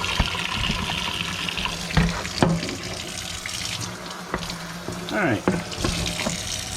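Running tap water splashes steadily over a vintage lunchbox being washed in a sink, with brief clunks and handling noises as it is turned under the stream, and a short spoken word partway through.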